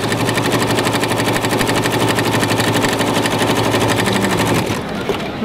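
A BERNINA sewing machine runs steadily, sewing on quilt binding with its binding tool attachment, a close, loud, rapid rhythmic stitching that stops near the end.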